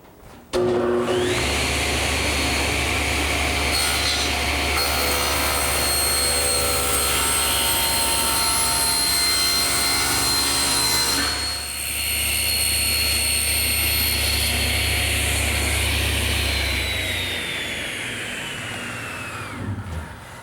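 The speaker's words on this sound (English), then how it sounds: "my panel cutter sure makes an easy job of squaring up the bottom" Panel cutter saw squaring up the bottom of a wooden settle side, a loud sustained motor whine with a cutting roar through the wood that eases off and winds down at the end, no talking.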